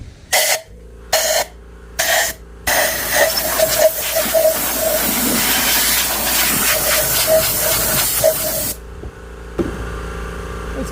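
Compressed air blows out the spark plug tubes of a GX470 engine: three short, loud hissing bursts, then one long, sustained rushing blast that cuts off sharply.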